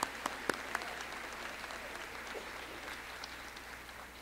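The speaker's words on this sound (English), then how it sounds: "Let's give your a round of applause" Applause from a crowd at a high school baccalaureate ceremony, steady clapping that continues throughout, a few sharper claps at the start, then fading slightly toward the end.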